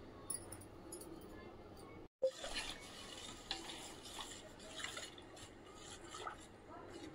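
Ingredients for an Ugadi festival dish, with poppy seeds and raisins, are stirred together in a bowl in faint scraping and clinking strokes, with a brief gap in the sound and a bit of quiet talk in the background.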